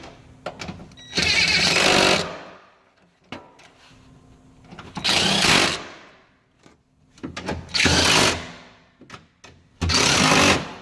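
Power wrench tightening bolts on a Toyota Prius battery bracket, four loud whirring bursts of about a second each separated by short pauses with faint clicks between.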